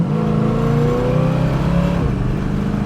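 A 1937 Buick street rod engine accelerating, a loud close rising drone that climbs in pitch, then drops briefly at a gear shift near the end and continues pulling.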